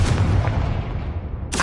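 The Confringo spell explodes in the video game Hogwarts Legacy: one loud, booming blast with a rumbling tail fading over about a second, then a second burst starting just as the clip ends.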